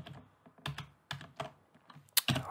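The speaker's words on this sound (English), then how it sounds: "just in case you want to see what I'm typing" Rapid typing on a computer keyboard during a software explosion-simulation tutorial, with clusters of crisp key clicks in uneven bursts and a louder keystroke near the end, close and with no talk over it.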